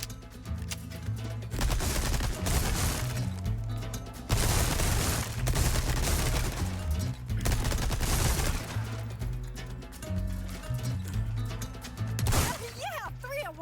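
Gunfire in the Resident Evil 4 Remake video game: repeated loud bursts of shots and booming impacts throughout, over game music and effects, with people talking in between.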